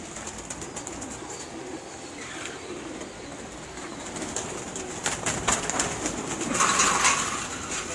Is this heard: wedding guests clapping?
no